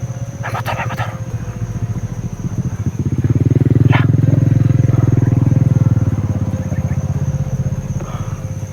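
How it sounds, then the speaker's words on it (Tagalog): A motorcycle engine approaches, swells to a loud rumbling pass in the middle, then fades away, with a few faint clicks and knocks nearby. "May motor."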